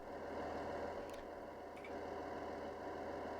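Diesel locomotive engine in Train Sim World 4 on the Niddertalbahn line, running steadily at the far end of the train as a constant muffled rumble and drone, with two faint brief clicks.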